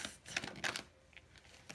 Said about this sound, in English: I haven't really finished shuffling yet.